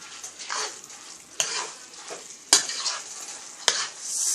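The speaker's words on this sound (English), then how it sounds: "you want to make sure that your rice is fully stirred with all the ingredients in it" Spoon scraping through Liberian jollof rice with mixed vegetables and tomato paste in a pot, several rhythmic stirring strokes with sharp scrapes against the pot over a soft sizzle, close and alone.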